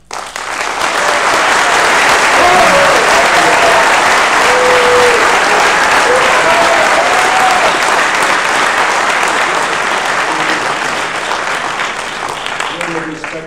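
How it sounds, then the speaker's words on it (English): A crowd at a 2012 congressional candidates' debate in New York applauds loudly and continuously for over ten seconds, with a few cheers and voices mixed into the sustained clapping. "Respectfully asking, hold all applause to the very, very end."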